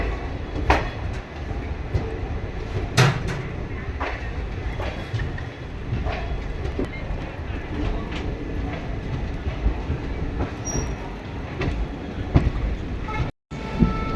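The Krishna Express (12406, Adilabad to Tirupati) pulls out of Kazipet junction, heard from on board as a loud, continuous rumble with rhythmic clatter of wheels over rail joints and a few sharp clanks, with no talking.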